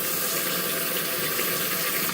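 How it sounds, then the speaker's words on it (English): Running tap water wetting a beauty blender makeup sponge at a sink, a steady continuous gush heard close and alone throughout. "you're going to get your beauty blender and you're going to wet it"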